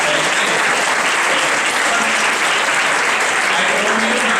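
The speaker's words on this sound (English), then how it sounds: "I know this is very natural clapping" A seminar audience claps steadily and loudly, a dense, even wash of many hands that carries on without a break throughout.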